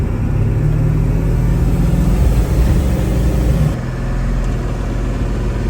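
A 7.3 Powerstroke diesel truck with an upgraded exhaust and muffler idles and revs nearby, a loud, deep, rumbling drone that holds steady and then drops in pitch and level partway through.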